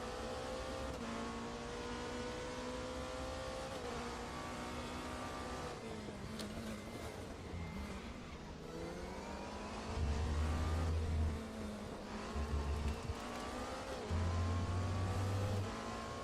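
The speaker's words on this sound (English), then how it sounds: "I also just don't like the sound of the Porsche" Porsche race car engine in the RaceRoom sim racing game, a buzzing multi-harmonic drone that climbs under acceleration, dips on downshifts and revs again, with brief bursts of heavier low rumble and a hint of tyre squeal.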